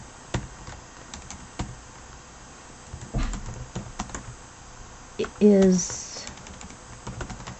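Keys on a computer keyboard click in scattered, uneven taps while a note is typed, light and close, broken by a short spoken word and a brief louder bump.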